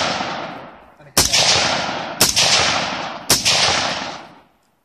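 Three sharp .22 rifle gunshots fire about a second apart outdoors. Each one is loud and close, with a crack followed by a long decaying echo, and there is no talk.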